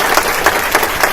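Applause from a church congregation welcoming a visiting sister in Brussels, Belgium: a dense, steady patter of many hands clapping at close range.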